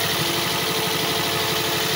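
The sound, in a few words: Toyota Vios engine running roughly, misfiring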